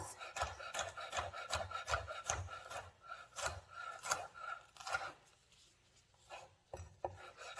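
Steady rhythmic knife strokes rough-chopping vegetables on a cutting board for a chicken and sausage jambalaya, a quick series of close, crisp taps that slows and thins out toward the end, with no talking.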